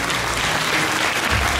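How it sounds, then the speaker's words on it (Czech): Audience applause at a NABBA/WFF Czech bodybuilding championship, a dense, loud burst of clapping that carries on steadily throughout. "Já poprosím potlesk"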